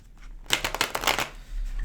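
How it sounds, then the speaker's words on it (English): A deck of tarot cards is shuffled close up, giving a brief run of rapid papery riffles and slaps lasting under a second, with no talking. "I'm going to shuffle a little bit on camera just for the people who like to see the cards being mixed up"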